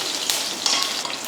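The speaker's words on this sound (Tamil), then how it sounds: "தாளிக்கிறதுக்கு கடுகு கருவேப்பிலை, 1 வரமிளகாயை பிச்சு போட்டிருக்கேன்." Mustard seeds, curry leaves and a torn dried red chilli sizzle in hot oil for a chutney tempering, a bright crackling hiss with small pops and stirring scrapes, close and steady.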